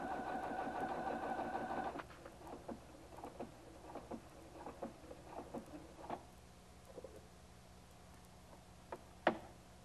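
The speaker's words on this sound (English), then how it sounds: "This automatic darning stitch will stitch 12 times back and forth over the tear to repair it." A Husqvarna Viking Platinum 770 sewing machine runs its automatic darning stitch over a tear in a fast two-second burst, then falls silent apart from scattered soft clicks and taps nearby.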